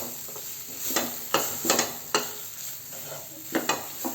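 Turmeric, coriander and cumin powders sizzle steadily with ginger and garlic in a hot pan while a utensil scrapes and stirs, with several distinct scraping strokes at an uneven pace.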